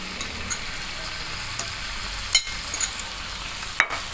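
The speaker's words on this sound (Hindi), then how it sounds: "अब ये मैं मैरिनेट चिकन इसमें ऐड करने लगी हूँ।" Marinated chicken frying in a pan, a steady close sizzle with occasional soft knocks and scrapes of stirring.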